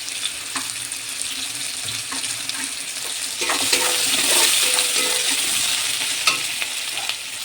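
Onion and green chilli fry in a pan with a continuous close sizzle. The sizzle grows louder and denser halfway through, and utensil scrapes turn up now and then.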